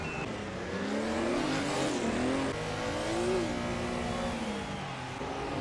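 1950s Formula One race cars, including a Maserati, at the 1956 Monaco Grand Prix: loud, continuous engine roar with rising and falling revs as the cars accelerate and shift, with no voices.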